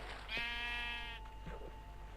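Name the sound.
sheep bleating in video game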